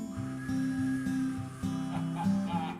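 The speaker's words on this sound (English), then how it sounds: "I can't whistle now. It sounds like this." A man's failed attempt at whistling comes out as breathy, wavering low tones in a short run of uneven pitches, close but quiet, with no clear whistle tone.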